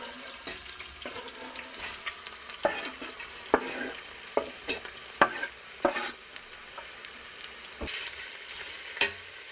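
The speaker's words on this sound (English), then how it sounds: "I'm going to heat about a third of a cup of olive oil in my soup pot. We'll put all those onions into the pot." Onions frying in olive oil in a soup pot, a steady soft sizzle under repeated clicks and scrapes of stirring, close and fairly quiet, with no talk.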